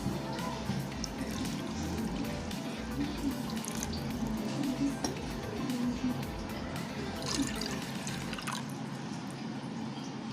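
Water runs steadily into a half-cup measure for ganthiya dough, a continuous trickling pour near the microphone with light kitchen clatter, ending abruptly just before the clip stops.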